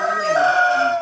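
Rooster crowing loudly and close at a village chicken-rearing farm in Loropio, Turkana, one sustained cock-a-doodle-doo with clucking fowl behind it.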